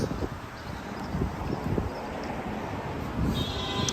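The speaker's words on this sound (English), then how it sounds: "It is a little windy today." Steady outdoor wind buffeting the microphone during a bike ride in New York City, a constant low rumble with gusts, plus faint scattered knocks in the background.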